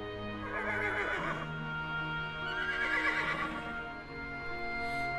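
A horse whinnies twice in a dubbed Hollywood film scene, each neigh long and loud with a wavering pitch, backed by steady ambient sound and no talk.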